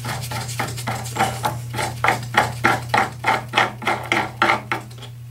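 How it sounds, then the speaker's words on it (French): A stop screw is turned into a bushing on a sliding table, giving a steady series of about a dozen evenly spaced rasping, grinding strokes over a constant low electrical hum. "une de butée d'arrêt qu'on visse ici à 6 mm dans la douille"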